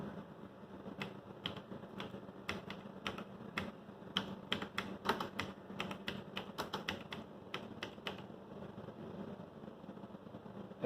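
Fast typing on a computer keyboard entering a book name into a search box, with sharp key clicks in irregular bursts over a low steady hum, close and fairly quiet.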